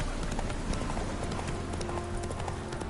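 Horse hooves clip-clopping rapidly at a gallop in the video game The Witcher 3, a steady, close rhythmic beat over game ambience with no talking.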